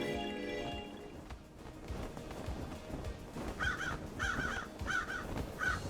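Crows in the Paradise Killer game caw in a run of four harsh, evenly spaced calls that arrive after a few seconds of low ambient game sound.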